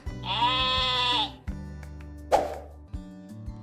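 A sheep lets out one long, wavering bleat near at hand, followed by a plop and soft music in a children's animal game.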